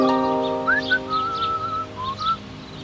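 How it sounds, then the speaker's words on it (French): A man whistles a strange, wandering tune in short gliding and held notes, clear and fairly close, over a sustained musical drone underneath. "elle vit cet homme siffler un son étrange"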